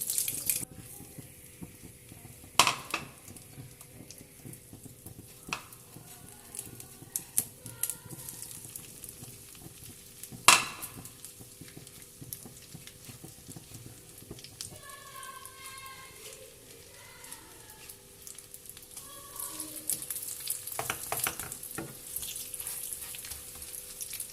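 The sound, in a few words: chicken tikka kebabs frying in a pan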